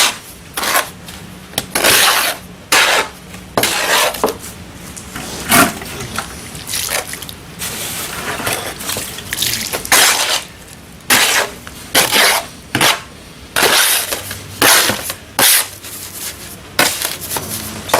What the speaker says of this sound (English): Mix it up and make our own grout.